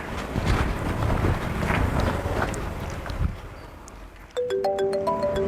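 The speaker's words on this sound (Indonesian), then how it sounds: "Ada telepon ya?" A phone ringtone starts suddenly near the end, a bright melodic electronic tune of repeated tones over steady wind and boat engine noise, after an Indonesian character arrives home.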